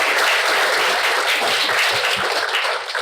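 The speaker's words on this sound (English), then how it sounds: "please give yourselves a round of applause for that" A theatre audience at a cast and crew screening Q&A for The Bob Zula bursts into loud, dense applause, a sustained wash of many hands clapping that starts to fade at the end.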